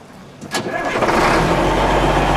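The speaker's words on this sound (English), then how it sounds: "We'll start it up and run it for you." A 1996 Caterpillar D250E diesel engine cranks briefly, catches, and settles into a loud, steady rumble close by.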